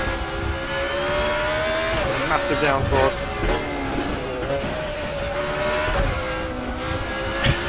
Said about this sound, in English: and it's got a Judd V8 Formula 1 engine in it